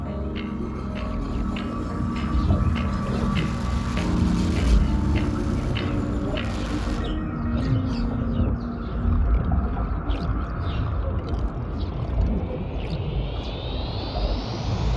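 Spaceship engines spooling up in Star Citizen, a deep layered rumble and hum that swells steadily with clanking mechanical accents and a rising whine near the end, loud and sustained without talk.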